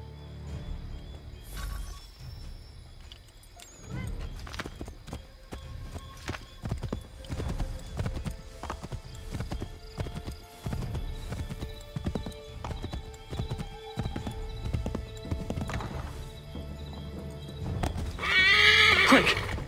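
Horse galloping in Assassin's Creed III, a steady run of clip-clop hoofbeats with a neigh or whinny, loud and close across the whole stretch, with game ambience behind it.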